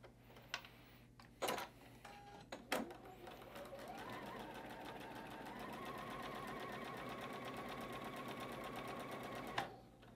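A sewing machine stitches gold batik fabric pieces laid right sides together for a quilt block. A few sharp clicks come first, then the needle runs in a steady, fast, even rhythm for several seconds before stopping.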